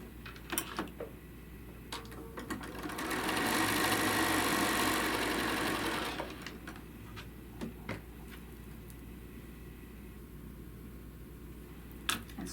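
A sewing machine running through a quilt star block, a steady whirring burst of stitching for a few seconds, close and moderate, with quiet fabric handling and clicks before and after.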